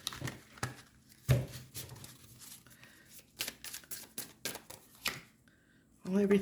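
A deck of tarot cards is shuffled at close range, giving bursts of crisp riffling and slapping that come in irregular clusters, with talk heard around them.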